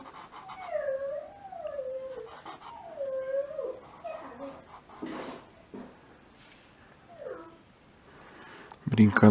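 A small pet dog whimpers and howls in rising, sliding yelps through the clip, fairly close, while a child plays nearby, with a louder bump near the end.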